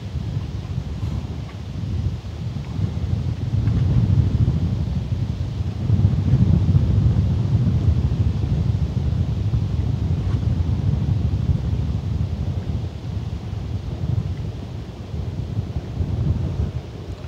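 Wind buffets the open upper deck of the AIDAprima cruise ship during sail away, a steady loud low rumble of gusts across the microphone with no voices.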